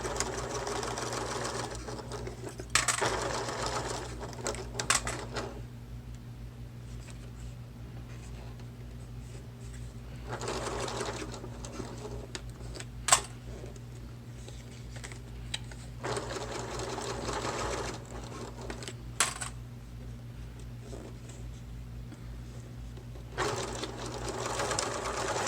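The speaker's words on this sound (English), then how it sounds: "I like to sew over the seam one more time, especially with these pleats" Sewing machine stitching a seam through thick pleated vinyl on a clutch bag, running in several steady bursts of a few seconds each with short pauses between, moderately close and clear.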